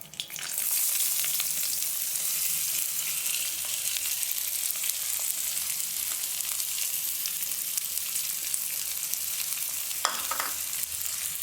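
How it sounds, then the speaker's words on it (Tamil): Finely chopped small onions (shallots) sizzle steadily in a hot pan while greens relish is being cooked, a continuous close frying hiss with a brief stir near the end and no talking. "சின்ன வெங்காயத்தை நல்லா வணக்கி விடணும்."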